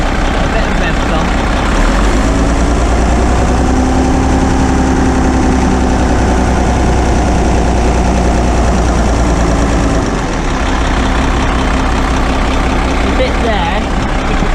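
A Cummins diesel engine with a suspected leak runs loud and close, holding a steady rumbling rev with a slight dip partway through before continuing, while a voice talks over it.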